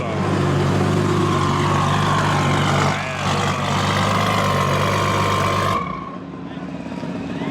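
A drag racing car rumbles through the staging lanes at a TX2K22 event, a loud, close, steady engine drone with a deep throb that fades as the car moves away, with voices faintly underneath.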